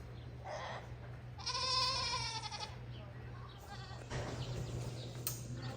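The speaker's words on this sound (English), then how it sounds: "My goats are at the window because it's almost time to be milked and they know it" Goats at a window before milking let out a loud, wavering bleat with a shorter cry later, heard close against a low steady background hum.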